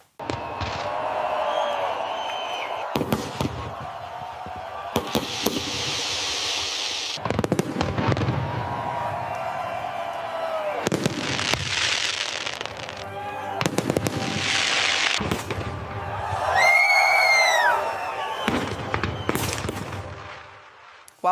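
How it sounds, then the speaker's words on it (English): New Year fireworks launched from multiple levels of the 828-meter Burj Khalifa tower in Dubai: repeated loud bursts, crackling volleys and whistling rockets come in waves, with faint crowd noise underneath. "Fireworks launched from multiple levels of the 828-meter tower."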